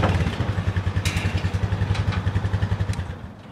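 A vehicle drives up a Shark Kage truck loading ramp. A close, loud engine throbs in a fast, even pulse, with rattling clatter and a few sharp knocks over it, then eases off slightly at the end.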